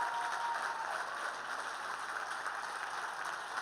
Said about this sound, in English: So I want everyone to give her a big round of applause and give her a cheer